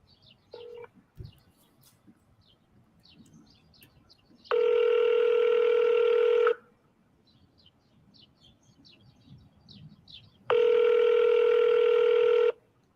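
A phone call is placed: a short dial tone blip, then two long, loud ringback tones about six seconds apart, with faint room noise and small chirps between them.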